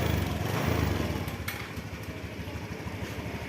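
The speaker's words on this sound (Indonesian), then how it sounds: "Kita hidupkan motornya ya." A heavily modified Honda Beat scooter with an electrical fault runs its small engine at a steady, faint idle, a low, even putter heard close by with no talking.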